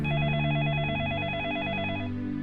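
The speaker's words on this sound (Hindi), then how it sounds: "अरे इस वक्त किसका फोन आ गया" A telephone rings in a drama scene, producing a warbling electronic trill that repeats steadily for about two seconds and then stops, heard loud and clear over a low background music bed.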